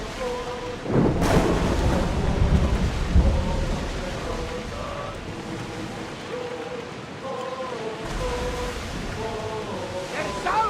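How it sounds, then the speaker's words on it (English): A sea storm in Assassin's Creed Odyssey: rain and wind roar steadily under booming thunder claps, with a sharp strike near the start and another later, plus faint tonal game sounds, no voices. "Alaka, would you look at that storm?"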